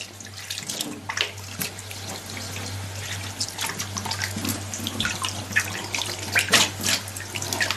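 A kitchen tap runs steadily into a sink while fish is rinsed for grilling, with splashing and water-handling bursts over a constant low hum, no talk.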